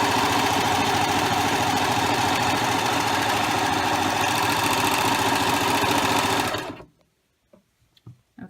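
A sewing machine stitching a rolled hem runs loud and steady at close range for nearly seven seconds as the fabric is pulled off the edge, then stops abruptly, leaving a few faint clicks.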